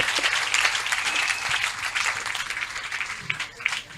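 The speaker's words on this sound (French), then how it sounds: "Clap for Jesus." A church congregation claps and cheers for Jesus at a prophetic deliverance service, a dense roar of applause sustained for about four seconds, close and loud, with voices mixed into the crowd noise.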